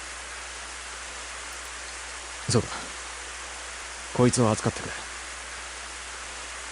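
Rain falling in the Planetarian visual novel game, a steady even hiss running throughout, with a voice speaking two short lines over it.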